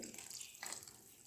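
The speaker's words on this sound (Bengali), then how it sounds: "দেখো কর্নফ্লাওয়ার দিচ্ছি, গুলে রেখেছি।" Cornflour slurry poured into simmering chicken soup, giving a faint, steady liquid trickle and wash with a brief brighter splash partway through, fairly quiet throughout.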